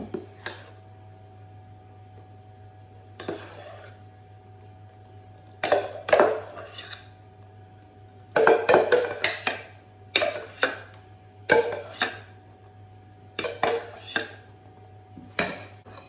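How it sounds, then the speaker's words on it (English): Spoon or spatula stirring ingredients into a gluten-free lemon pudding mixture in a bowl, heard as scattered clinks and scrapes in short irregular bursts over a steady low hum, close and fairly quiet. "I'm just going to add these to this and just stir them through"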